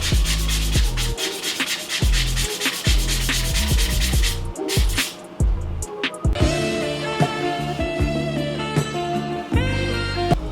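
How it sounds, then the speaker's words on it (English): Steady rhythmic sanding scratches against a dented metal Yamaha FZ6 motorcycle fuel tank, loud and close, with a brief pause midway before the rubbing strokes resume. "let's start sanding this dent out"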